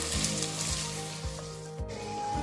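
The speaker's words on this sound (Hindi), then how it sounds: "और इसको फ्राई करते हैं। प्याज को हमने लाइट गोल्डन ब्राउन करना है" Onions sizzle in a pan as they fry to light golden brown for a beef kofta curry: a steady, close crackle with soft regular thumps underneath and no speech.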